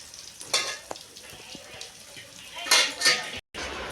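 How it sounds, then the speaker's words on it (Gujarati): A tempering of chickpeas and fenugreek seeds sizzles in hot oil in a pan for a mango pickle, with a soft frying hiss, scattered clinks of a utensil against the pan and louder stirring bursts near the end. "આ ચણા મેથીનો બોરો વઘારાઈ ગયો"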